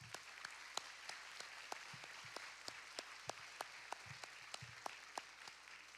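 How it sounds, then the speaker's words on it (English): At an academy graduation ceremony, an audience applauds faintly and far off, with sharp regular drum-like beats cutting through the thin clapping, likely from pipes and drums. "Let's give a round of applause for Honor Guard and Pipes and Drums."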